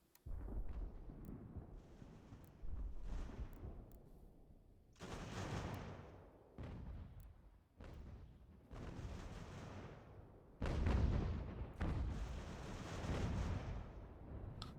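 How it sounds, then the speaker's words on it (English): Canister artillery fire rolls through a video game battle set in the American Revolution, a series of heavy booming bursts and rumbling volleys coming in irregular clusters at moderate level, with no talk over them. "unfortunately, loads of canister friendly fire there."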